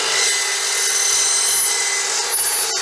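A saw blade cutting 1.5 inch tubular steel gives a loud, continuous, harsh grinding rasp close by, holding steady throughout with a slight change near the end.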